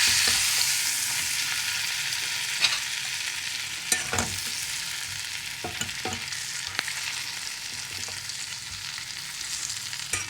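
Small endive rolls seasoned with salt and pepper fry in a pan with a steady sizzle, broken by scattered pops and a few scraping stirs, close and continuous with no talk.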